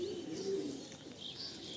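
A female Andhra pigeon coos softly and faintly while being held and handled up close, its low, murmuring calls coming in short runs with a few thin chirps in the background.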